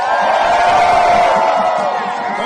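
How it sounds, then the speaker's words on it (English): A crowd at a rally with members of a federal government union cheers and shouts in a loud, continuous roar close by, with voices rising together and sustained yelling, applause hard to pick out beneath it. "Give them a round of applause."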